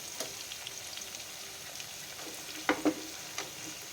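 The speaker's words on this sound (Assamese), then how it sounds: "এয়া চাওক মছলা আৰু ঔটেঙাখিনি ভজা হৈ গৈছে" Spices and elephant apple fry in a pan with a soft, constant sizzle. A couple of sharper clinks from stirring come near the end.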